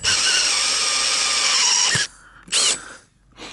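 A 1.25-inch hole saw cuts into poly pipe with a steady, loud power-drill whine for about two seconds, then stops, followed by a short second burst of drilling.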